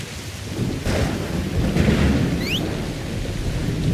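Heavy rain pours steadily with deep thunder rumbling throughout, a broad continuous roar with no voices.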